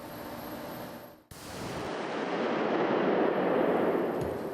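A single loud .416 Remington rifle shot cracks out at an outdoor hunting facility, followed by a long rolling echo that slowly fades, with no talk over it.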